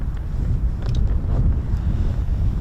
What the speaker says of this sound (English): God, you can hear it, a bit windy, isn't it?